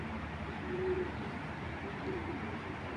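Pigeons of a fancy breeding stock, including a breeding hen, coo in low repeated murmurs within a noisy loft, two soft coo phrases rising above steady background hum.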